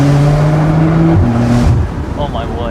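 Hard acceleration from a 2016 Porsche 911 Carrera 991.2, rear-drive, its engine note climbing steadily through rising gear steps, loud and close from inside the car, then easing off toward the end.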